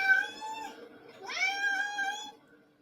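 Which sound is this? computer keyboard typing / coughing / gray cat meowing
gray cat meowing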